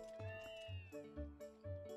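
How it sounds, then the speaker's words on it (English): Cats meow in the video game Twilight Princess HD, several short, tonal mewing calls in quick succession, with one longer rising meow, quiet and close, with a low game hum underneath. "Kitties! We can talk to the kitties."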